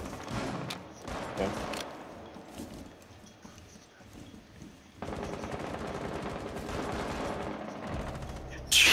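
Gunfire through a window in the Rainbow Six Siege video game, rapid automatic shot bursts at moderate distance in scattered volleys, with a brief spoken word and a louder hit at the very end.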